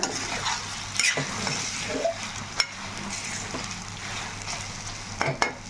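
Chicken frying with dry red chilli paste sizzles steadily in the pan while a utensil stirs it, giving a few louder scraping knocks over the constant frying hiss and no voices.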